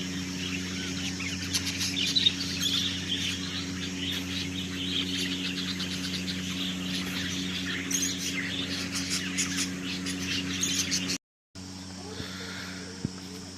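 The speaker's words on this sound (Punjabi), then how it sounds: "ਹੁਣ ਇਹ ਹੈ ਜੀ ਤੋਤੇ ਜੋ ਕਿ ਬੀੜ ਤਲਾਬ ਦੇ ਚਿੜੀਆ ਘਰ ਦੇ ਵਿੱਚ ਹਨ" Parrots in a zoo enclosure at Bir Talab Zoo, Bathinda, chirp and screech in a busy chorus over a steady low hum, with a brief cutout near the end.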